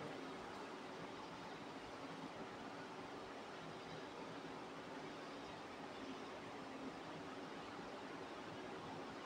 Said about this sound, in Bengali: জলটা শুধু দেখো বেরিয়ে যাচ্ছে